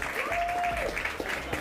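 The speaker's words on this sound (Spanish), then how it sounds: "Un aplauso fuerte para Mifel." Short burst of audience applause at a gaming championship event, moderately loud with a held tonal sound running through it and some distinct claps near the end.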